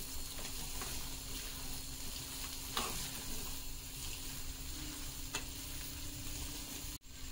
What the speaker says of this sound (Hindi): और अब जो काजू और मूंगफली रोस्ट करके रखे थे वो डाल देते हैं और इन्हें अच्छे से हम मिक्स कर देंगे